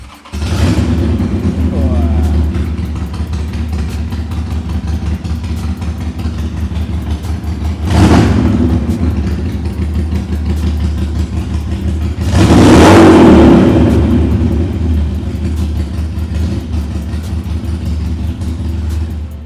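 A used Harley-Davidson chopper motorcycle engine starts and runs with a steady low rumble, rising twice into sharp revs before settling back to idle.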